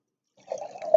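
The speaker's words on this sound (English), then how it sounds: "Whoops, I've got to add more water to make it clear." Water trickles and splashes as it is poured into paint to clear a puddle, a short close liquid sound starting partway in and swelling at the end.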